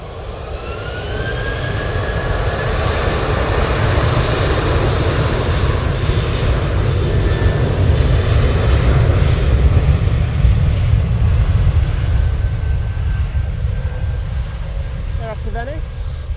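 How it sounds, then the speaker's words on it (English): A Ryanair jet airliner on its takeoff roll at Manchester Airport produces a loud, sustained jet engine roar with a rising whine that holds strong throughout, close and continuous, with faint voices under it. "Ryanair now on the roll."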